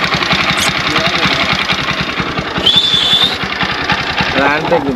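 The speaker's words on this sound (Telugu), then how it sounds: "మెకానిక్ వచ్చి బండి స్టార్ట్ చేసిండు ప్లగ్ మార్చగానే బండి స్టార్ట్ అయింది" A vehicle engine, just restarted after a spark plug change, idles loudly and close by, firing in rapid, regular pulses throughout, with a brief voice-like tone over it midway.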